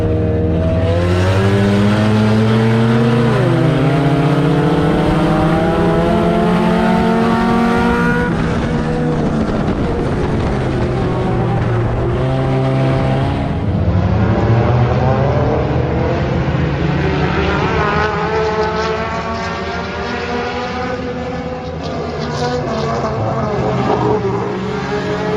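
Race cars roaring off at the green flag, several loud engines revving and climbing through gears together, a dense close drone with rising and falling pitch throughout.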